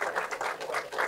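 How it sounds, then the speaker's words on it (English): Audience applause after a short-film directors' panel, a steady wash of many hands clapping at full volume through the whole moment, with no voices over it. "Can we get a round of applause"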